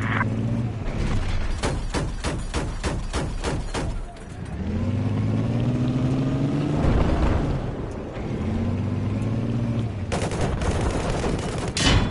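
Rapid gunfire bursts mixed with a tank's revving engine in a Battlefield battle, the sharp shots clustered at the start and end around a loud, sustained engine drone.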